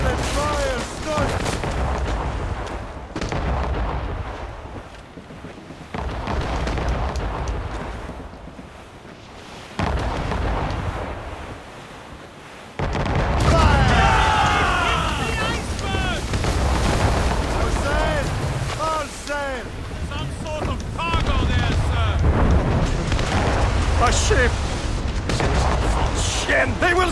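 Ship cannons fire in broadsides during a naval battle in Assassin's Creed Rogue, heavy booms and blasts rolling out repeatedly over roaring sea and wind while crew shout and talk throughout.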